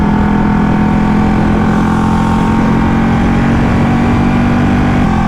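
Ducati Panigale 1199S sportbike engine running steadily while being ridden, a continuous close-up drone with a constant low tone and no gaps across the whole stretch.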